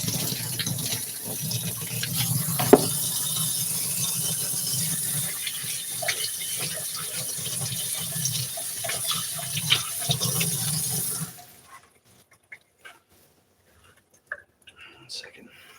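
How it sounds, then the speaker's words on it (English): Tap water runs steadily into a sink while hands are washed beneath it for about eleven seconds, then the flow cuts off, leaving near silence with a few small clicks and knocks. "Let me wash my hands."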